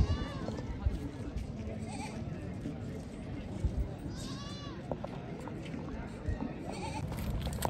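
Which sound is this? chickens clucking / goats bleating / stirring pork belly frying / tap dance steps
goats bleating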